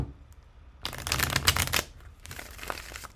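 A deck of tarot cards is shuffled by hand in two quick riffling bursts, close and fairly quiet, the first longer and louder, with a short pause between and no talking.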